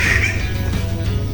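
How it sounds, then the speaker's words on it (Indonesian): A Halmahera standardwing bird of paradise gives a harsh, squawking call in tropical forest, loud and fairly close against a steady background of insects and rustling. "Udah mulai kedengaran suara burungnya deket banget, ada di sana kata bapaknya sekitar 3 ekor."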